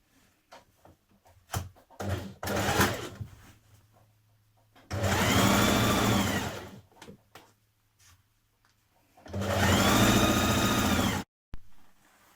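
A sewing machine stitches a trouser seam in two steady bursts of several seconds each, with fabric handling and small clicks in the quieter gaps between them.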